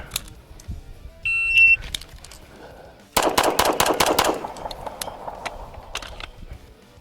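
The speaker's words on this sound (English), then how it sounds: "We're gonna shoot a little bit." Rapid strings of pistol shots from a SIG P320 with a steel grip and frame at an outdoor shooting range, loud sharp bangs in quick bursts, preceded by a shot timer's electronic start beep.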